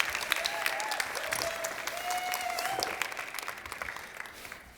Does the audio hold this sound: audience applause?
yes